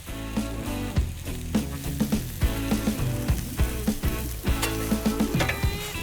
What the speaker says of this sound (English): I'm gonna cook these onions down.